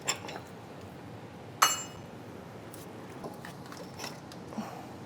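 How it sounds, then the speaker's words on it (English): A bolt is pulled from a Chevy Silverado or GMC Sierra truck's shock mount with a sharp metallic clink and faint scraping, rattling and creaking, heard close and quiet with no talk. "And pull this bolt out."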